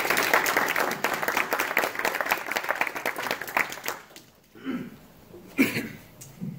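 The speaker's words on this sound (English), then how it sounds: "So please help me have a warm applause for Dr." An audience applauds a speaker at a talk, a dense wash of clapping that fades out after about four seconds, followed by a few isolated claps and small noises in the quiet room.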